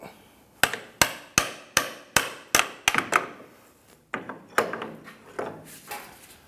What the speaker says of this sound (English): Tap out the ball joint.